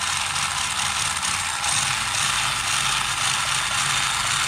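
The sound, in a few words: Arrma Grom RC car drivetrain running after diff refresh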